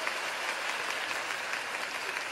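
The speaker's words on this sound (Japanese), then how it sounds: "皆様もう一度大きな拍手お願いします。" Audience applause at a live werewolf-game show event, a steady, even wash of clapping that carries on at moderate level without any talking.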